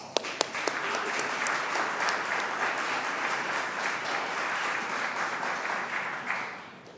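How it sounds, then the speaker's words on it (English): Audience at a youth entrepreneurship challenge event applauding, a sustained dense clapping crowd with a few sharp close claps near the start, steady for several seconds before tapering off at the end. "Please join me in applauding Solana."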